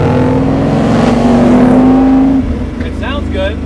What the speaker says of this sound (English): It's got side exhaust on it, so it is a little bit louder, but there's just no way to hide 700 horse.